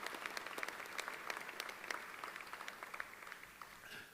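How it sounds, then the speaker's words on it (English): Audience at a sports hall of fame induction ceremony applauds a baseball manager: steady, moderately distant clapping from a large crowd in a hall, continuous for several seconds. "I'll have a round of applause for Terry Collins"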